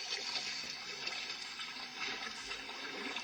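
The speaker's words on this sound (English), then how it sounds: "With a mighty splash, Thomas landed in a pool of water." Water splashes and rushes in a short, soft burst, a churning liquid sound like something plunging into a pool inside a flooded tunnel.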